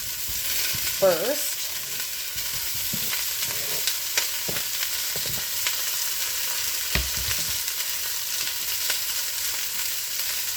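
Onion frying in a pan for a Moroccan tagine gives a steady, close sizzle with occasional stirring clinks and scrapes, and a brief spoken word early on.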